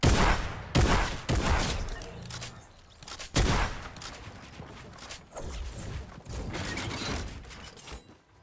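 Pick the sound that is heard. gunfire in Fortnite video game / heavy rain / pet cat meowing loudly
gunfire in Fortnite video game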